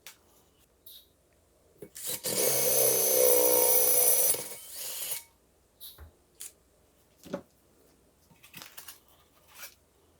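A power drill bores a hole through a flowerpot for a handmade LED lotus lamp, with one loud, rough grinding burst of about two seconds, then scattered scrapes and small knocks nearby.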